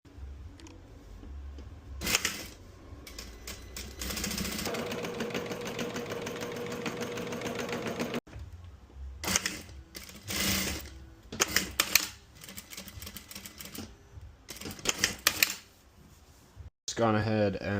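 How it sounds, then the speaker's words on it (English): A sewing machine stitches pieces of pants made from 1980s hunting overalls, running in several bursts of rapid mechanical whirring separated by pauses and handling noises. "Let's get into sewing all the pieces together."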